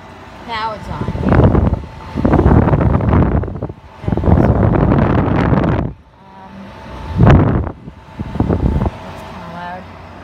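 A GE 5200 BTU window air conditioner runs with a loud, rushing airflow that swells and drops in long bursts of several seconds each, heard close up and buffeting the microphone.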